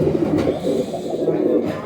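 Pigeons kept by a Pakistani fancier cooing close by, soft low throaty calls repeating in a continuous murmur.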